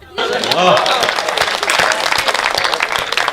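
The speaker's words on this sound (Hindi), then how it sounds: "मैं तालियां चाहता हूं आपसे, बधाई देना मेरे को" A comedy show audience bursts into sustained applause that sets in quickly and holds steady and loud throughout, with a voice briefly audible over the clapping at the start.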